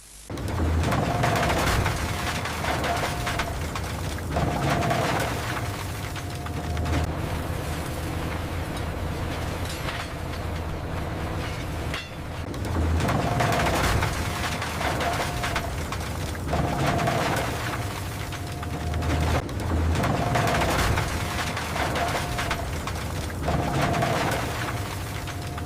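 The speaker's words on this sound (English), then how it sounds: "It can be incredibly satisfying to watch the shredder take in the chunks of metal and plastic and turn them into tiny pieces." An industrial shredder crushing chunks of metal and plastic, a heavy continuous grinding roar with repeated booming surges and crunching bursts every few seconds, loud and mechanical without any talking.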